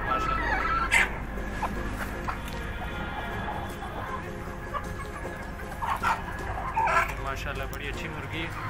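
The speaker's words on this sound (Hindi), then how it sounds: "जिस भाई को चाहिए वो कुड़क मुर्गी है ये जनाब।" Pure black broody hen clucking softly with a few sharper cackles, close by, under someone talking throughout.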